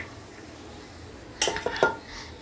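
While the last of the rice goes into the pot as the final layer of a keema masoor pulao, a few sharp metal clinks of a utensil striking the pot break a quiet background.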